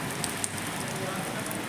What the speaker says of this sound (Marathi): बघा पुण्यात किती पाऊस आहे.